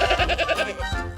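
A goat bleats in a quick wavering run of pulses, then gives a brief trailing cry, close and fairly loud.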